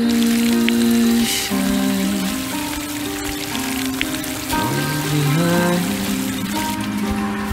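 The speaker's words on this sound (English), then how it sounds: "Well, it's raining." Steady rain patters across the whole stretch in the video game We Harvest Shadows, with gentle tonal music and chimes running underneath.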